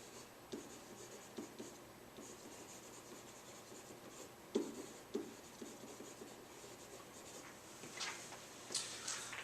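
Pen or pencil writing on paper during a choral arranging lesson, producing scratchy strokes in short bursts with pauses, close and fairly quiet against a hushed room.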